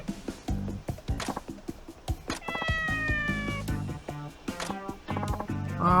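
Cat in the video game Like a Dragon: Ishin! meows repeatedly, with several drawn-out, rising and falling cries close up over clicking and tapping game sounds.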